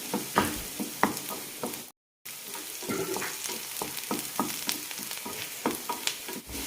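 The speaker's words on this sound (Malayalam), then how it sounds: "ചെറുതായി ചുവക്കുന്നവരെ നന്നായി വഴറ്റിയെടുക്കാം." Sliced onion, green chilies and curry leaves sautéing in hot oil, with a continuous sizzle and the scrape of a spoon stirring, heard close and alone with a brief dropout.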